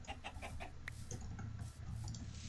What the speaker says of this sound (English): I'm making money from killing all these chickens!